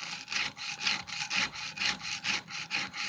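A knife's rounded edge being sanded by hand with sandpaper wrapped around a bamboo sanding block, close and steady, rhythmic back-and-forth rasping strokes, about eight in three seconds, with no talk.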